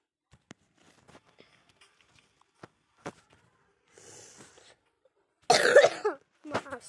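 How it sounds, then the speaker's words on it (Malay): A person coughs sharply a few times near the microphone, the short hacking bursts close together near the end, after scattered faint clicks and shuffles in a quiet room. "Maaf, saya batuk."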